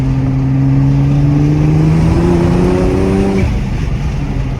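A tuned 700 whp Nissan R35 GT-R accelerates hard in second gear. Its engine note rises steadily and loudly from inside the car, then cuts off sharply near the end. No one speaks.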